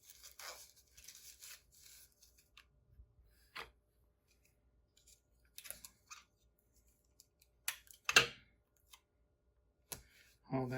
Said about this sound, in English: I'll just have to use more regular tape